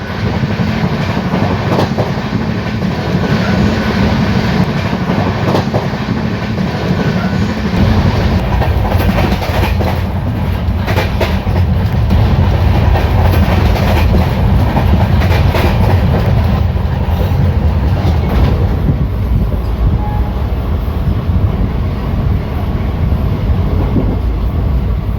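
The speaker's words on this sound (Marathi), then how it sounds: "आणि जबरदस्त स्पीडने मिरखेल स्टेशन स्किप करत आहे सध्या आपली ट्रेन" Heard from inside the coach, the 17057 Devagiri Express runs at high speed past Mirkhel station, with a loud steady roar and rhythmic clickety-clack of wheels on rail joints throughout.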